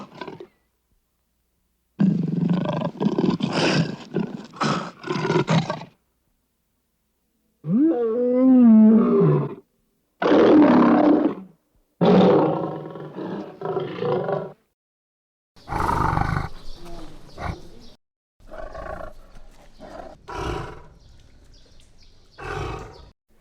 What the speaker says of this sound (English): Now I did the same thing but with tiger sounds,